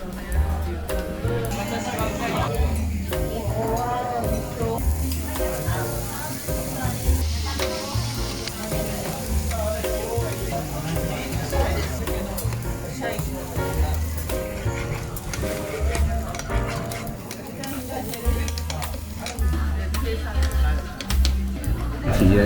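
Chopped monjayaki frying on a hot teppan griddle in a Japanese restaurant, a steady sizzle with scraping and tapping of spatulas beneath ongoing conversation.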